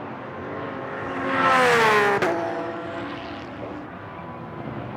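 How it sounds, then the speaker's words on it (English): The number 88 Reiter Engineering Lamborghini race car sweeps past on the circuit during free practice of the Blancpain Sprint Series in Moscow. A single loud engine roar swells to a peak, its pitch dropping as it passes, then fades into the distance. "What sort of speed he can get out of that 88 Reiter Engineering Lamborghini."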